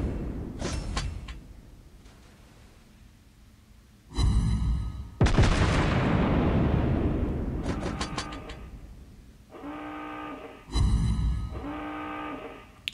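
Naval shell fire from a British premium cruiser, the Tiger, in World of Warships Blitz: several loud booming salvos with a long rumbling roar, separated by tonal horn-like alert sounds.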